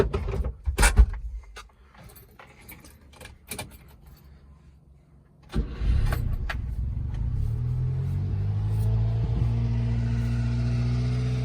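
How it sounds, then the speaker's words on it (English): Subaru Sambar or Honda Acty kei truck engine in extra low gear starts up rough and settles into a steady, loud revving drone, after several sharp clicks and clunks of doors and handling earlier on. "gonna rev up a little bit, chokes on until it gets warmed up."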